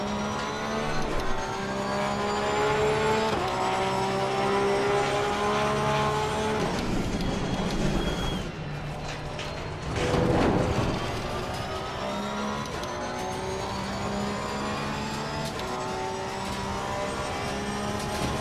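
Race car on a hot lap at Bathurst's Mount Panorama, its engine revving hard and climbing through the gears in repeated rising pulls, with a brief lift and shift mid-run before powering on again, loud and continuous from onboard.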